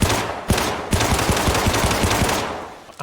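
Rapid automatic gunfire in the video game Syndicate, shooting at a glass pane, with bursts of sharp repeated shots in a steady rhythm at close range, loud and continuous for about two and a half seconds before tapering off.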